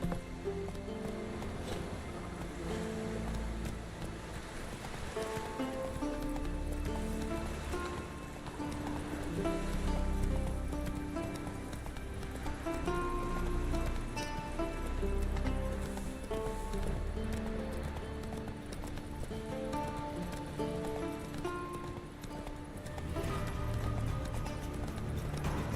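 Roach, Geralt's horse in The Witcher 3: Wild Hunt, gallops with steady, rapid clip-clopping hooves that continue throughout, set against a layer of in-game music.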